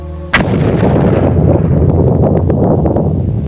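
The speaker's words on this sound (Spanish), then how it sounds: "una explosión que se oyó a miles de kilómetros de distancia" A sound effect stands in for the Tunguska explosion over remote Siberia: one sudden, loud boom hits, then a long, rough roaring rumble carries on for several seconds.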